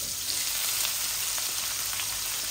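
Onions hit hot oil in a pan and sizzle steadily, a loud, close, continuous hiss with no voices.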